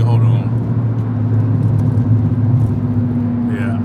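A black Mercedes C43 AMG on a supercar rally, its steady low engine drone and road rumble heard from inside, continuous and fairly loud throughout, with people talking over it.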